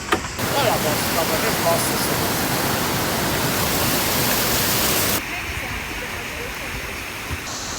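Krka waterfalls in Croatia roar as a steady, dense broadband rush close by, loud and unbroken throughout, dropping slightly in level toward the end.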